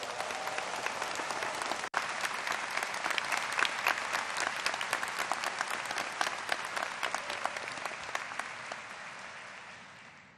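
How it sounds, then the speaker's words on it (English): Loud, sustained applause from a large audience at a law school commencement ceremony, a thick wash of many hands clapping at once that runs continuously and slowly tapers toward the end. "So let's give a round of applause."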